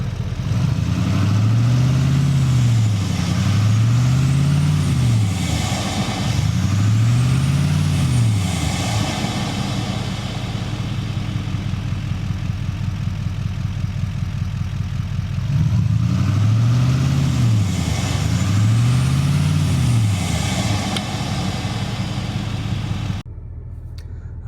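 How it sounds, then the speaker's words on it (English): A turbocharged truck engine with a new cold air intake is revved several times in rising and falling surges, rumbling loudly nearby, then settles to a steady idle between bursts. "hit some revs for you so you guys can kind of hear that, what it sounds like outside the truck"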